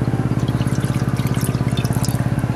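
Water pours steadily into a pot while cooking a tangy amudi fish curry with tamarind, a continuous close trickle with a fast rhythmic gurgle and no talking.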